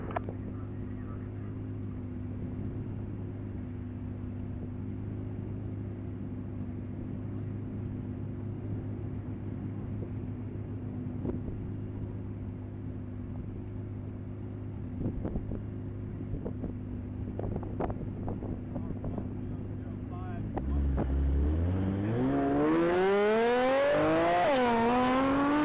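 2009 Nissan GT-R race car on a half-mile top-speed pass at a mile racing event, a steady low hum for about twenty seconds, then a loud rising engine roar with rapid gear-change sweeps near the end.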